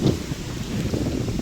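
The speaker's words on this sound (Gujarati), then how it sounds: "પવન ફૂલ હે" Strong wind blowing outdoors, a loud, rough rushing buffet against the microphone with uneven gusts and a low rumble throughout.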